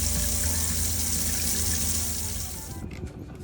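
Water pumped out of a boat's bilge on a Mainship 350, a steady rushing, gushing flow heard close and fairly loud that tapers off and stops near the end.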